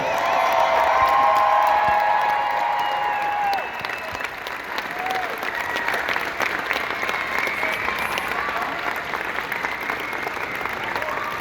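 A fan convention panel audience applauds and cheers loudly, the burst strongest at the start before settling into steady clapping with scattered whoops, a large crowd heard at close range.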